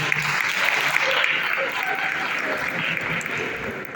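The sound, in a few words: audience applause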